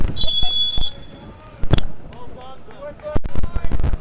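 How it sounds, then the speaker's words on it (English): A shrill umpire's whistle blast early on at a men's over-65 Masters World Cup hockey quarterfinal, heard over crowd noise and a commentator's voice, with thumps and wind buffeting following. "Loud whistle there from the umpire"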